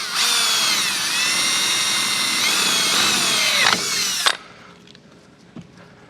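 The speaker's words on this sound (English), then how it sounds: "We're going to drill the hole out." A power drill whines loudly and continuously, its pitch dipping as it bites into material, then stops, leaving faint clicks and handling noises.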